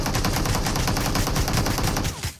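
Dense, continuous gunfire from the mobile battle royale game PUBG Mobile on the snowy Vikendi map, loud and steady rapid shots with no talking, cutting off abruptly near the end.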